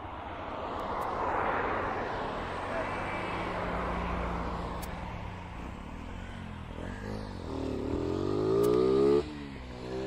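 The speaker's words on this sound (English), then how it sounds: "Another aircraft coming in to land, and I'm pretty sure we said it was the DHL" A DHL aircraft approaches to land at East Midlands Airport, its engine roar swelling steadily with a rising whine near the end, heard from a distance outdoors with some wind and background noise.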